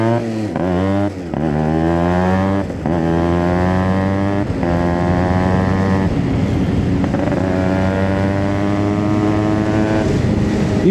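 A Yamaha RX100 motorcycle being ridden, its engine close and loud, climbing in pitch through several revving pulls with brief drops at each gear change, then holding a steady drone.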